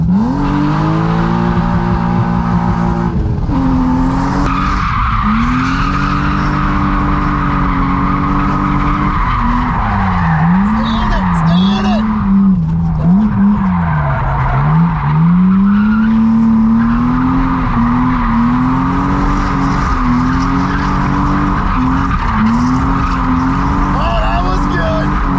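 Car driving on a racetrack, its engine whining and rising through revs while tires squeal and skid almost without a break. The sound is loud and close, and there may be some talk underneath.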